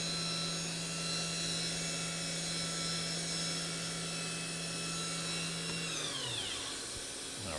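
A 2020 Tsugami B0203-III Swiss type CNC lathe spindle spins at 10,000 RPM with a steady high-pitched whine over a whirring machine hum, then winds down with falling tones near the end.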